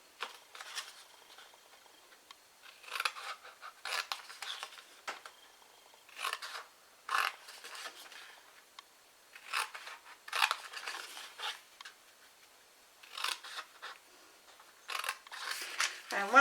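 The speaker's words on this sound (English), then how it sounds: "we're going to turn it over and we're going to cut down to the next score line." Scissors snip through scored card in repeated short bursts of cutting with brief pauses between, close and fairly quiet, with no talking.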